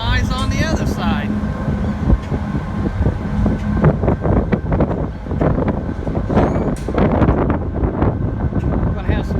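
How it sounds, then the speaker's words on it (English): Wind buffets the microphone on a ferry deck carrying a motorhome and semis, with gusty rumbling noise and a low engine drone throughout, under occasional talk. "We're gonna have some serious wind."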